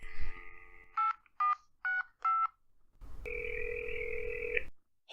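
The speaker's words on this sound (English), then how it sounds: "I'll give 9B a ring first on the house phone." A house phone is dialed in a radio drama: a dial tone, four crisp evenly spaced keypad tones, a pause, then a long ringback tone, all up close with no voices.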